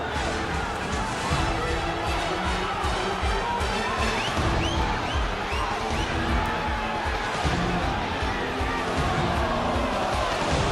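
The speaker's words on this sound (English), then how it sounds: "Crowd reacting on every throw." A boxing arena crowd at the Diego Corrales versus Jose Luis Castillo fight roars steadily and swells with each exchange of punches, a dense, constant wash of noise beneath commentary.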